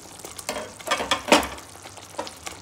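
Tomato puree cooking in a pan for baked vegetable cannelloni, giving short bursts of sizzling and stirring scrapes, close and fairly loud, with no talking.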